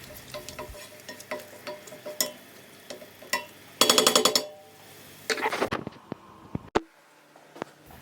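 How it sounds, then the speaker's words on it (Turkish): Tomato juice hissing and sizzling as it sautés in a hot pan while frozen borlotti beans are being prepared, with clattering stirring and a loud burst of frying partway through, alone with no talk. "Beş yemek kaşığı domates suyu ekleyerek Asidi çıkana kadar kavuralım."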